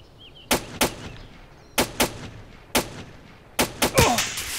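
Gunfire from a weapon in the military video game ARMA 2, loud sharp cracks in pairs and small bursts with echoing tails, rising to a rapid cluster of shots near the end over a steady background hum.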